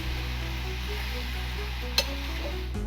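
Jujube pickle cooks in a pan with a steady low sizzle and bubbling, broken by one sharp clack of a stirring utensil against the pan near the end.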